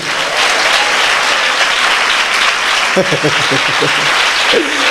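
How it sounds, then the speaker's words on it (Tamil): A church congregation at a Tamil Christian service breaks into loud, sustained applause, dense clapping throughout, with a few voices rising over it near the end. "உங்க பாஸ்டரை நினைச்சு சந்தோஷம் உண்டுன்னு சொல்றவங்க ஜோரா அவர் கைத்தட்டு கொடுங்க"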